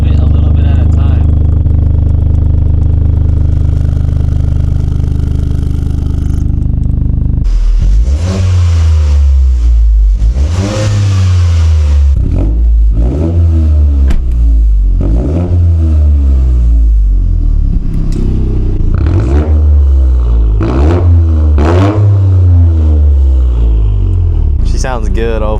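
Toyota GR Corolla with its exhaust valve open, the engine revving loudly in repeated rising and falling bursts after a steady idle, close to the car, with people talking at times.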